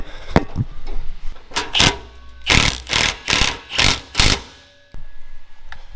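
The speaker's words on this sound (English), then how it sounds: "So I'm going to tighten up the last bolt right now." A power tool tightens the last bolt on a Peterbilt 389 truck after chrome wheel-well work, heard as a series of about eight sharp close bursts, the middle ones grouped in a quick rhythmic run.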